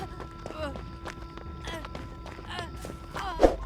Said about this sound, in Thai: และการ วิ่งการเดิน ก็จะมีเสียงฝีเท้าเกิดขึ้นตามปกตินั่นเอง